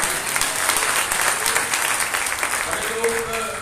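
A church congregation claps together during a Sunday meeting, producing a steady, dense wash of applause that carries on evenly for several seconds, with faint voices mixed in underneath.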